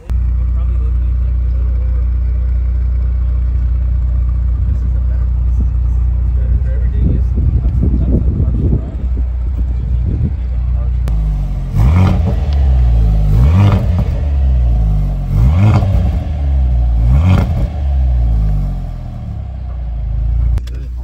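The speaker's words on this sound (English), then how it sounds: "let me give you guys a little bit of revs real quick" A car engine idles with a deep, loud rumble, then is revved in several rising-and-falling bursts spaced a couple of seconds apart, close up, with people talking over it.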